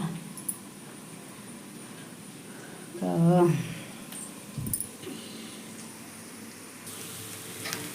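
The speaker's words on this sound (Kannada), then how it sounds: "ಎನ್ನ ನೀರುಳ್ಳಿ ಎಡ್ಡೆ ಫ್ರೈ ಆಂಡು" Onions fry in a pan in a home kitchen, giving a soft, steady sizzle under a person talking, with a brief clatter of utensils near the middle.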